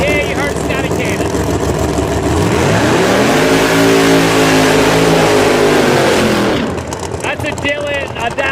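A Chevy Outlaw Pro Mod drag car at a drag strip, idling roughly before revving hard into a loud sweeping roar that rises and falls, then drops back to a rough idle while an announcer talks over it.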